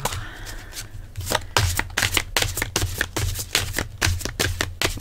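Tarot cards shuffled by hand, a steady run of crisp riffling flicks and slaps close up, continuing for several seconds with no one speaking.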